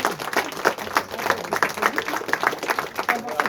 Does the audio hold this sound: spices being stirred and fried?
no